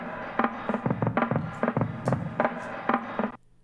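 A sampled drum break made huge with hard compression and slapback delay, its kicks, snares and hats punching in a busy, steady rhythm, loud and up close, ending abruptly.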